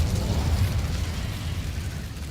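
The Incendio fire spell in Hogwarts Legacy lets out a dense, rumbling burst of flame that swells loudly and slowly fades over a couple of seconds.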